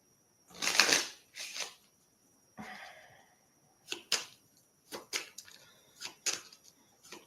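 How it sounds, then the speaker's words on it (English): A deck of reading cards is shuffled in several short, crisp riffling bursts separated by brief pauses, close and fairly quiet. "I'm going to use the same deck. Let me just shuffle and clear it."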